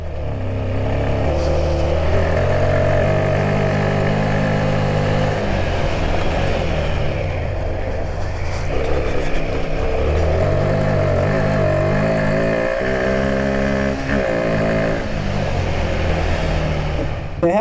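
A Royal Enfield Himalayan 450 motorcycle engine runs steadily at about 2000 RPM in second gear, a close, continuous low thrum with a few small swells in pitch. No voices are heard.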